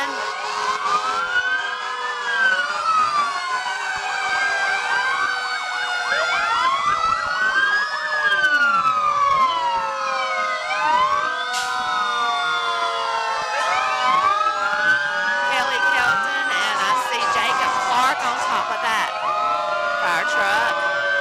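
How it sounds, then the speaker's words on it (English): A fire engine siren from the Bonham Fire Department, engine 4, passes during a town parade in Jonesville, South Carolina, its loud wailing tones rising and falling continuously with overlapping sirens and an air horn blast throughout. "The Bonham Fire Department, engine 4."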